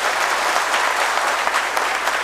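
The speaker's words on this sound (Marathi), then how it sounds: "अशा टाळ्या वाजवल्या पाहिजे तुम्ही" A large crowd applauds during a political speech at a public event in Nashik, loud and dense, continuous clapping that holds steady without a break and has no voices over it.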